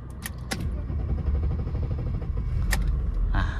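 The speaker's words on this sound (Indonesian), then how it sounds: "Kita starter." A 1996 BMW six-cylinder automatic is started: a few sharp metallic clicks and a jingle of keys sit over a rising, rough engine rumble that settles into a steady idle close by.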